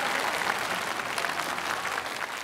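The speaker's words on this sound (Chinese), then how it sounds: "来，掌声也鼓励一下张永鹏。" A basketball arena crowd gives sustained, dense applause for a newly entered 208 cm center stepping to the free-throw line, steady and loud throughout without pause.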